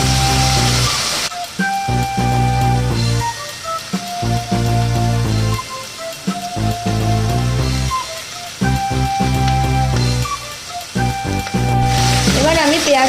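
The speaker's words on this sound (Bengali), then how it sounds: "এবার আমি পেঁয়াজ কলি আর পেঁয়াজ একসাথে ভালো করে লাল লাল করে ভেজে নেব।" Chopped onion and spring onion sizzle steadily in hot oil for a fish curry, a continuous crackling hiss that runs under prominent background music throughout.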